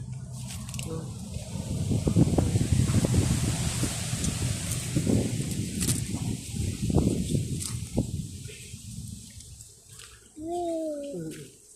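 Gusty wind buffets the microphone in rough, surging rumbles, easing near the end as a voice briefly speaks.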